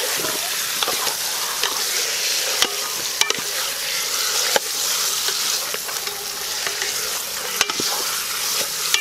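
Pork face (maskara) frying in hot oil in a wok for crispy adobo, a steady loud sizzle and hiss with occasional sharp pops and spatters as the pieces are moved around.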